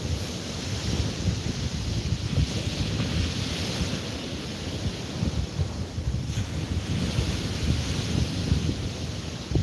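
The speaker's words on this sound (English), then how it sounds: "There's a little bit of a breeze blowing and I can't tell if you're getting blown away by the wind or not." Wind blowing across a beach and buffeting the microphone, a steady rumbling roar mixed with broad hiss, loud and continuous for the whole stretch with no voices.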